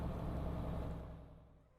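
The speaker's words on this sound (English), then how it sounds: "It sounded like my engine is making some weird noises now since I hit that invisible wall." Truck engine in a trucking video game making odd noises after hitting an invisible wall, a low, steady rumble that fades out, with no talk.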